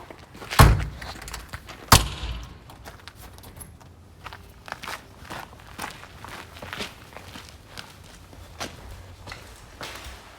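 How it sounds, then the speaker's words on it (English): An interior door in a commercial space under plumbing renovation closes with two loud thuds near the start, followed by a run of quieter footsteps moving across the floor. "Close this door."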